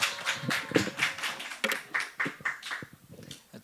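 Scattered applause rises in a Sunday church service as a missionary is welcomed, irregular clusters of claps from the congregation thinning out and fading toward the end.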